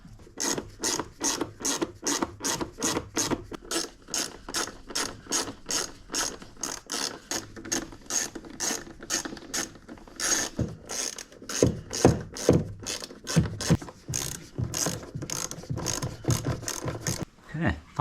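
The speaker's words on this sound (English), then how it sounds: "And then we can start screwing it back down." A socket ratchet runs down the cover screws on a Mk2 Skoda Fabia 1.6 TDI during a service, giving steady rapid clicking bursts that repeat for the whole stretch, close and fairly loud with short pauses between screws.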